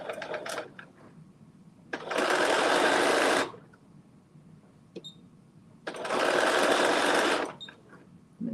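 A sewing machine stitches in two loud, steady bursts of about a second and a half each, separated by quieter pauses with small handling clicks and rustles.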